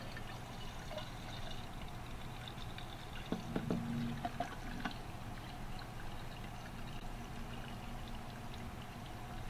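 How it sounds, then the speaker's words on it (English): Salt water dissolved in 500 milliliters of water is poured into a graduated cylinder in a lab, a faint, low liquid pour against a steady background hiss, with a few brief splashes midway. "I'm going to put it into a graduated cylinder"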